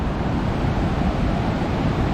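Steady broadband rush of water at the top of a waterfall in Sapphire Valley, western North Carolina, a constant close roar with no pauses.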